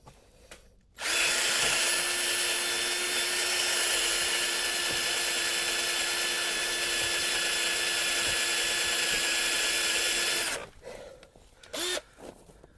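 A power drill bores out broken bolts on a John Deere front end loader, a loud steady high whine running about nine seconds after starting abruptly, then cutting off into faint clicks and handling noise.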